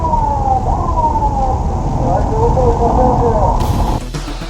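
A wailing police siren at a highway tollgate rises and falls over loud road noise and engine rumble, then cuts off abruptly near the end.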